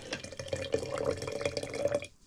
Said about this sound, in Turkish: Bunu şimdi suyunu koyuyorum